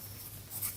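A pen scratches across paper while school figures are written down in a GCSE maths lesson, a brief, faint, steady scratching with no talking.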